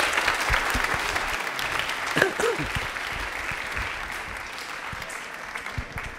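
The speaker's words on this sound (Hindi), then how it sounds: "तालियां जोरों से बजाइए।" A studio audience applauds loudly and steadily for a correct answer on a televised Rajasthani quiz show, the dense clapping running the whole stretch, with a brief voice rising above it partway through.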